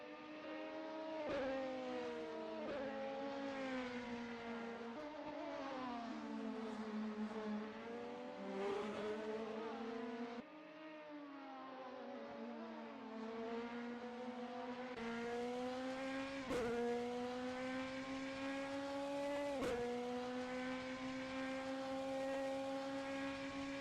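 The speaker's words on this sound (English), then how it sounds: "Jeevan Davis is on their first flying lap" A DTM-style race car in a sim racing game screams through a flying qualifying lap at Portimao, its engine note climbing through the gears with sharp dips at each upshift, steady and loud with no voices.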